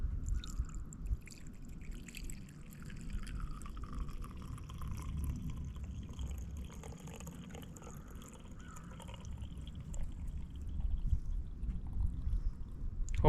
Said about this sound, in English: let's fill this up with some diesel.